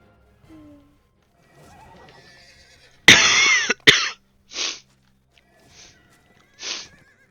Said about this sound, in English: Now, I do have the super fast horse